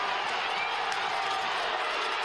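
A restless stadium crowd at a New Mexico United versus Las Vegas Lights FC soccer match keeps up a steady, loud roar of murmuring and shouting, with no breaks.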